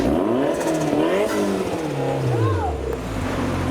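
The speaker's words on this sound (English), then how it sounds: "Let's see if we can hear his fluttery turbo." A Jaguar car with a modified turbo drives off in the rain, its engine note rising and falling as it accelerates away over steady road noise, with someone talking over it.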